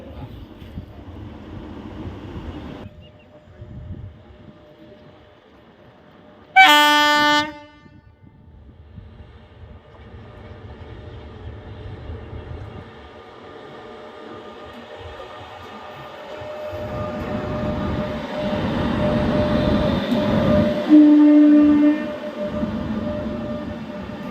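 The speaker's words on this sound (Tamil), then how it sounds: "இப்போ ஒரு ஏசி லோகோவானது ஈரோடு ஷெட்டோடைய வேப் 7 வந்துக்கிட்டு இருக்கு" A WAP-7 electric locomotive from the Erode shed approaches on the Madurai–Bodinayakanur line with a low rumble, gives one short loud horn blast, then grows steadily louder as it rolls past.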